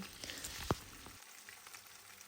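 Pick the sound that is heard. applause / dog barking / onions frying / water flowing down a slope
onions frying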